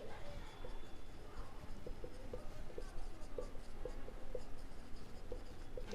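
Marker or chalk strokes on a board while capital account entries are written out, a steady run of short scratchy strokes over a low room hum, close and fairly quiet.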